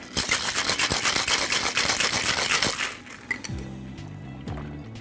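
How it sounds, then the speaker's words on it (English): A cocktail shaker holding vodka with orange and apricot bitters is shaken hard for about three seconds as a loud, rapid rattle of ice. A few lighter glassy clinks follow. "Then we're gonna take some orange bitters, apricot bitters, and then we're gonna shake."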